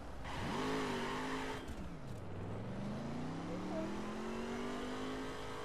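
Race cars revving and accelerating at the start of a three-lap race in a racing game, engine pitch climbing, dropping at a gear change, then rising steadily in a loud continuous roar.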